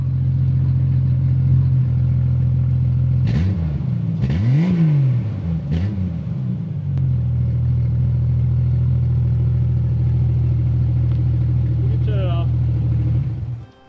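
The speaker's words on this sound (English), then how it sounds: "The muffler makes it sound less like a tractor and a little bit more like a straight six race car, but it also adds quite a bit of drone." Car engine with a straight-six sound and a turbo muffler slipped over the exhaust pipe, idling as a steady low drone with a burst of revving in the middle.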